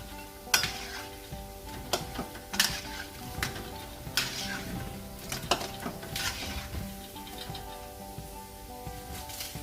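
Pempek Palembang fish cakes sizzling in a frying pan as they are turned, with repeated sharp clinks and scrapes of a utensil against the pan over a steady frying hiss, no talking.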